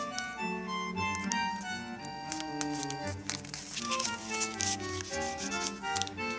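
Paper being folded by hand for origami makes soft rubbing and crinkling sounds, faint and close, with intermittent creasing strokes. Tonal musical background plays throughout.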